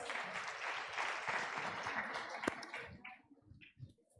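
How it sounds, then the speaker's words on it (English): Audience applause at an international conference on the Safe School Declaration, steady clapping from a large hall that fades out after about three seconds, leaving a few scattered claps. "Let's appreciate more again with a lot of applause."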